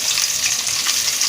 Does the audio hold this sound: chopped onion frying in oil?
yes